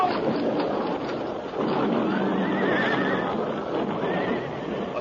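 A radio-drama horse whinnies loudly and shrilly over hoof clatter on a narrow mountain trail, the neighs rising and falling in two long bursts with no talk over them.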